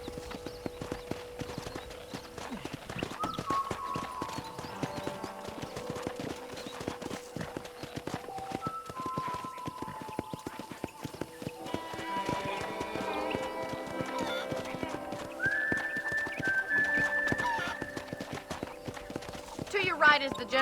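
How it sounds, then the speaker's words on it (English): Rhythmic horse hoofbeats clip-clop steadily in Red Dead Redemption under a bed of game music, with a horse whinnying partway through and someone talking over it. "let's see if you can still ride a horse"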